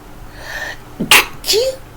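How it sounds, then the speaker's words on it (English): A single loud sneeze, close up, with a short sharp intake before the burst and a quick breathy tail. "I feel like I'm gonna sneeze."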